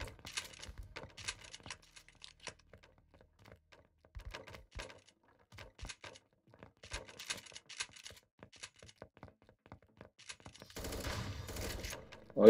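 Gunfire in the browser shooter 1v1.LOL during a duos battle royale match, heard as scattered bursts of clicky, snappy shots spread across the stretch, with a louder, denser rush of noise near the end.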